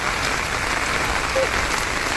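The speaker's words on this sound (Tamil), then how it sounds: "உண்மையிலேயே அடமலை இதுதாங்க அடமலை" Heavy downpour pounding down on a village, a steady, dense, hissing roar that stays unbroken and loud throughout with no pauses.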